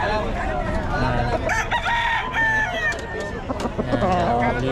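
Several roosters crow loudly and repeatedly at a Bocaue pet market on P. Lazaro Street, overlapping cock-a-doodle-doo calls mixed with clucking fowl nearby, while people talk in the background.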